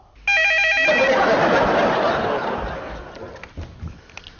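A telephone rings with a loud repeating electronic trill during a comedy scene, then fades under soft laughter and brief murmurs, with no clear speech.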